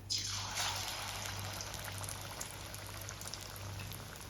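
Batter-dipped banana fritters, pazham pori made with wheat flour, hiss and bubble in hot oil over a high flame, a quiet continuous sizzle that flares briefly at the start.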